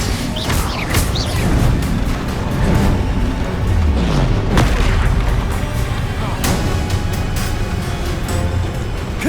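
Explosions from the Bombarda spell in the game Hogwarts Legacy: loud, rumbling booms and crashes follow one after another, with sharp cracks layered over a dense, continuous roar.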